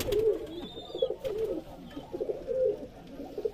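A male Rajshahi Giribaz pigeon coos close by in a pigeon loft, repeating soft throaty rolling calls in quick succession with a faint higher chirp in the background.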